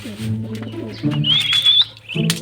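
Soft, low cooing from pigeons in a coop repeats close by, with a brief higher chirp partway through and little else around them.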